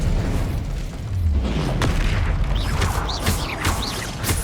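Incendio and Expelliarmus spell blasts in the Hogwarts Legacy video game, a string of booming magical impacts and whooshing crackles in close succession amid ongoing combat noise.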